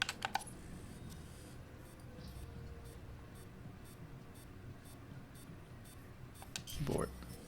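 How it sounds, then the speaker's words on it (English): Sparse, quiet keyboard taps during a computer-hacking minigame in Alpha Protocol, with scattered clicks over a low hum and a brief louder beep-like sound near the end. "Keyboard."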